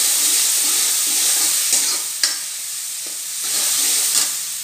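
Onions and soya keema roasting in a pan give off a steady, close sizzle, broken by repeated scraping stirs of a spoon and a couple of sharp clinks against the pan.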